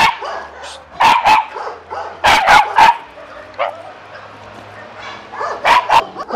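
A Shiba Inu barks at a kennel in several sharp bursts, loud and close, with pauses between groups of barks and a few short yips.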